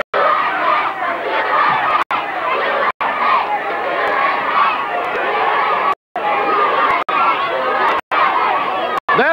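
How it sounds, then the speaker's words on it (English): A crowd at a 1991 six-man tag team professional wrestling show in Fridley fills the air with roaring, yelling and cheering, loud and continuous, broken by several short dropouts. "Listen to this crowd."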